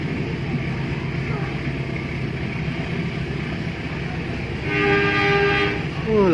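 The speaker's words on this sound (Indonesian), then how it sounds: "kereta persiapan menanjak ya" A Cibatu–Bandung passenger train climbs a grade near Nagreg, heard from on board as a steady loud rumble of wheels and engine, joined near the end by a sustained horn blast.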